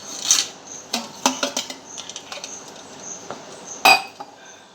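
Large pots and dishes being scrubbed and handled, with scattered metallic clinks, scrapes and knocks at close range, including a sharp clang near the end, and no voices.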